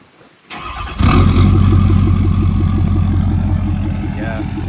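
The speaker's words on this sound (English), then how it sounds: "A little cold start action." A Ford F250 truck engine cold-starts after a brief quiet moment: a short cranking burst, then the engine catches and settles into a loud, steady, rumbling idle close by.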